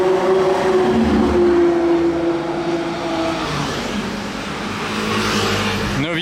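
A Novitec-tuned supercar engine roars loud and close on a Monaco street, a sustained throaty drone with shifting pitch as the car revs and passes, with faint background voices.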